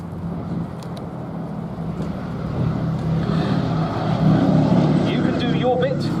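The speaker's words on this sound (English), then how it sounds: "all the team on two engines to simulate the condition in which so many shot-up B-17s return from missions" A Boeing B-17G bomber flies past on two engines at an air festival at Duxford, its steady propeller-engine drone swelling gradually louder, with a public-address voice talking over it throughout.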